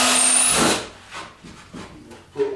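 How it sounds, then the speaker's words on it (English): A power drill bores pilot holes into wood for a meat shop wrapping table build, starting with a loud, close, high whine that cuts off after under a second, followed by quieter scraping, handling noises and a sharp knock. "I'm just gonna drill me some pilot holes"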